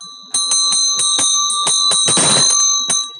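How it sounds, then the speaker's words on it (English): Small ritual bells rung in repeated bright strikes with a sustained shimmering tone, close and clear, clustering into a quick flurry near the end. "And you'll hear bells representing emptiness."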